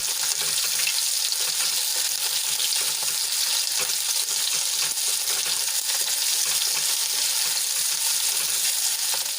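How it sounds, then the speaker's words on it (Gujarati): Medium onions, cut into large pieces, frying in hot oil as they are stirred for a green pea curry, a loud continuous close crackling sizzle with a faint scraping texture, no speech. "બે ડુંગળી કાપીને લઈ લીધી છે મીડિયમ સાઇઝની મોટી મોટી કટ કરી લીધી છે એને એડ કરી દઈશું અને તેલમાં સરસ રીતે મિક્સ કરી લઈશું"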